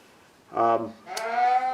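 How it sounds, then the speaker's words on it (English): Sheep bleat loudly nearby while locked out of a stall, two drawn-out wavering calls back to back with a brief gap between, the second longer and rising, heard alongside the setting of a Ford Super Duty ball joint repair. "Don't mind the sheep sounds. They're locked out of the stall right now."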